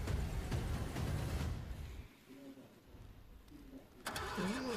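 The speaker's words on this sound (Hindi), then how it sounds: "इंजन स्टार्ट नहीं हो रहा" In a movie scene, an engine cranks and sputters without catching, a loud rough churning that cuts out, then briefly resumes.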